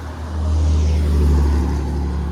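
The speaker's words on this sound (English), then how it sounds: "Wow, that was almost a car accident." A car passes close by on a road beside a river, a steady loud low engine and tyre rumble swelling slightly mid-pass with no talk.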